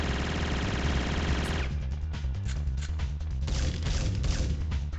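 Gunfire in Syphon Filter comes first as a dense, loud burst of rapid shots. It then breaks into scattered single cracks and impacts over a few seconds, with no voices.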